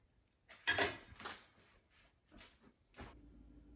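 Noodles with tomato sauce stirred on a plate, a few quiet, close scrapes and clinks of a utensil against the dish in short separate strokes, with near silence in between.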